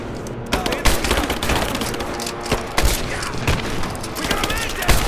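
Sustained automatic gunfire in the video game Rise of the Tomb Raider, with dense overlapping bursts and sharp individual shots across the whole stretch, loud and close amid the din of a firefight.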